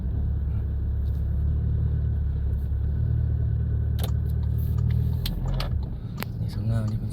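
Steady car traffic rumbles along a street in Vientiane, engines droning close by with a vehicle revving past, and a few sharp clicks near the end.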